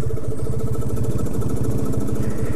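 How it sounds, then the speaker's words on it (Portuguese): A 250cc motorcycle running with no air filter sits at idle, its close, steady low pulsing putter carrying a raspy, hissing edge throughout. "Aí galera, deixar aqui na lenta, ó."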